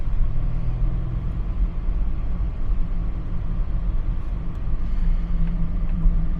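Steady low engine drone and road rumble from a BMW E39 M5 being driven, a continuous even cabin hum with no speech over it.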